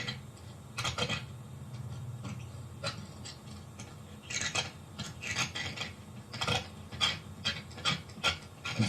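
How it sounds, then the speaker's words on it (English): A screwdriver scrapes carbon from the corner seal pockets of a Mazda RX-7 13B rotary engine rotor wetted with carburetor cleaner, making repeated short, close scraping strokes in an uneven rhythm at a quiet level. "And scrape all of the carbon."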